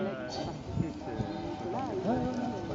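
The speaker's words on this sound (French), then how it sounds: "Et ça galope, moi je peux vous le dire." A horse trotting and galloping on a large green lawn at an equestrian event in Rennes, soft hoofbeats under continuous commentary and background noise.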